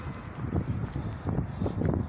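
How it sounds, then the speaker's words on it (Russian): Gusty outdoor wind on a frosty January night buffets close by, a low rumbling roar that swells and eases in uneven waves. "На улице ветер"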